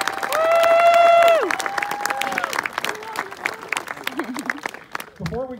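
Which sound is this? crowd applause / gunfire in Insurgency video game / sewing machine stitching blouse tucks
crowd applause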